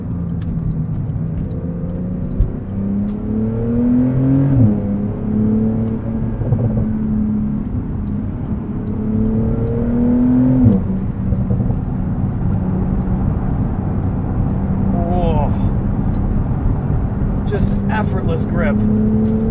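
A 2021 Porsche 911 Turbo S drives on the road, its engine droning steadily with rising and falling revs and gear changes, heard from inside the cabin under continuous talk.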